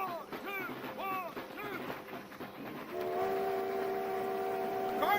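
A train passes amid shouting soldiers, with a steady, sustained whistle tone rising in over rumbling rail noise in the second half, following several shouted commands.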